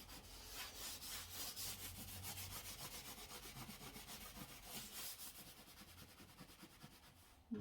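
Scratchy side of a cloth scrubbed back and forth over tape to remove stuck plastic residue, heard close and faint: a fast, regular rasping rub in even strokes that slows slightly toward the end, with no talking.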